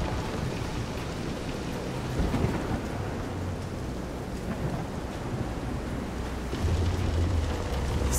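Heavy rain pours steadily through a stormy sea scene in the game Visions of Mana, with low rolling thunder rumbling beneath it and swelling louder near the end.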